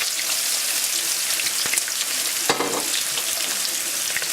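A large diced onion frying in a pan used for braising lamb shanks, a dense, even sizzle up close with a few sharp clicks and a brief scrape near the middle.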